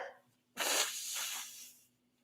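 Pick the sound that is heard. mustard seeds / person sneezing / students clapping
person sneezing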